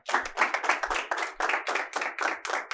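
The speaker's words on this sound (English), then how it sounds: "Let's give Riko another round of applause" Close, distinct handclaps in a quick, fairly regular rhythm, roughly a dozen strikes, from an audience at a business talk, sounding like a few people rather than a large crowd.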